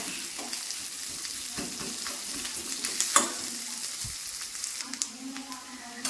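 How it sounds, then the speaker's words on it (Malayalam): Onion and coconut pieces frying with curry leaves in a pan, a close, steady sizzle with occasional stirring scrapes and faint clinks. "നമ്മളൊരു പകുതി സവാള ഇട്ടിട്ടുണ്ട് അതുകൊണ്ട് ഇട്ടൊന്ന് മൂപ്പിക്കുവാണ്"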